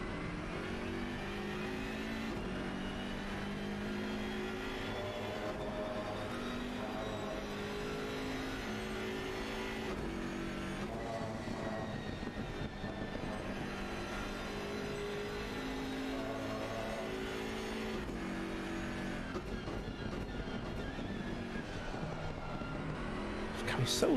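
A Bentley GT3 race car's engine drones steadily through a virtual race, its pitch rising and falling with gear changes, while commentators talk over it almost throughout.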